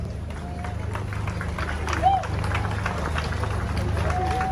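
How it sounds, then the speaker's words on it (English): A crowd gathered for President John Dramani Mahama at a farm project event claps and murmurs in a steady, dense wash, with a voice speaking over the applause throughout. "Ladies and gentlemen, a round of applause,"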